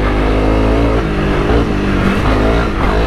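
A Honda CRF250 Rally motorcycle spins its rear wheel on slippery ground, the single-cylinder engine held at a loud, steady high rev and heard up close without pause.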